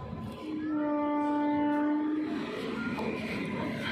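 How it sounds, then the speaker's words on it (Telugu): Train arriving at Charlapalli railway station, hauled by a WAP7 electric locomotive, sounding a long loud steady horn over rumbling rail noise that continues as the train rolls in close by. "అది చూస్తున్న లోపే ట్రైన్ అయితే వచ్చేసింది అనమాట"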